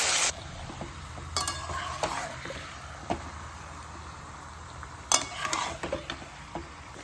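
Marinated chicken sizzles in a pan with turmeric, chili powder and whole garam masala, a soft frying crackle under scattered clinks and scrapes of a spoon stirring against the metal.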